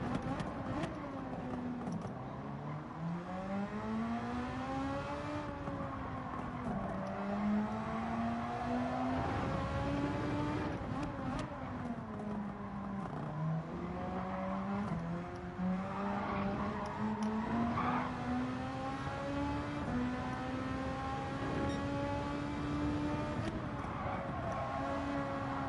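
Gran Turismo 7 Formula-style race car on a flying lap at the German Grand Prix, its engine note climbing and dropping through gear changes in a steady, continuous whine with tyre noise.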